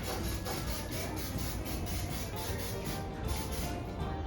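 A steady, continuous aerosol hiss of cooking spray coating a chicken for smoking, close by and fairly quiet, running without a break for several seconds.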